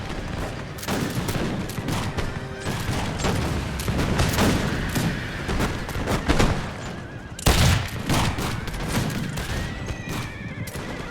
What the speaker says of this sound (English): they keep getting shot by the Minutemen and the Rangers, and the artillery firing canister shot